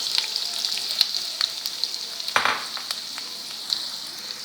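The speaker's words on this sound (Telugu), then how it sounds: "ముందుగా బాణీలో నూనె వేడి చేసుకుని ఈ ఉల్లిపాయ ముక్కలు, పచ్చిమిరపకాయ ముక్కలు ముందు అందులో వేసుకోవాలండి." Onion and green chilli pieces fry in hot oil in a kadai, a continuous bright sizzle close by with occasional sharp crackles and pops.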